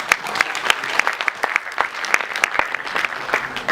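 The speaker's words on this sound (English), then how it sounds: "huge round of applause for Ali" Scattered, distinct handclaps from a modest crowd at a Model United Nations closing ceremony, individual claps popping out in an uneven, sparse rhythm rather than a dense roar.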